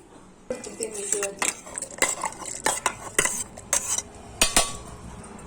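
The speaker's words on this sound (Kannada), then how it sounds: "ಈಗ ನಾನು ಇದನ್ನ ಮಿಕ್ಸಿ ಜಾರಿಗೆ ಹಾಕ್ತಿದ್ದೀನಿ." Milk-soaked dates tipped into a mixer jar with a run of close clinks and knocks of a spoon against the jar, uneven and fairly loud, with no talking.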